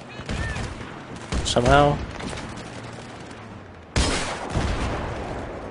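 Bursts of gunfire in Battlefield 3 combat, loud and close, with a sharp volley near the start and another after a pause, while someone talks over the shooting.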